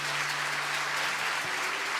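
A congregation claps during a church homily, a dense, even patter of applause filling the short moment at moderate level.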